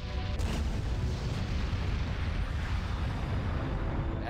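Dense, continuous rumbling booms of quantum torpedo explosions fill a starship battle in a Star Trek video game, loud and sustained with no voices.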